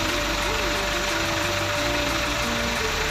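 An electric water pump motor drives water into an irrigation channel, giving a steady, unbroken hum with a faint high whine and no change in pace.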